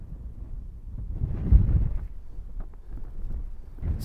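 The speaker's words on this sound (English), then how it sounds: "It's a bit windy for stepping on here." Wind gusts across an open heather hilltop, buffeting the microphone in low rumbling surges that swell and fade.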